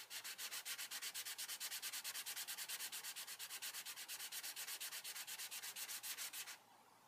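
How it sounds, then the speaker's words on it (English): A saxophone reed is rubbed back and forth on fine sandpaper, a close, steady rhythm of soft rasping strokes, about eight per second, that stops just before the end. "place the table of the reed on a piece of paper or fine sandpaper and lightly move the reed back and forth"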